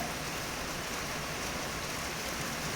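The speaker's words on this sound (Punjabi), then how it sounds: "ਹੁਣ ਮੈਨੂੰ ਹੋਰ ਵੀ ਨੀਚੇ ਜਾਣਾ ਪੈਣਾ ਮੀਂਹ ਵੱਧ ਗਿਆ ਜੀ" Steady, even rain hisses down continuously, a dense wash of drops with no voices.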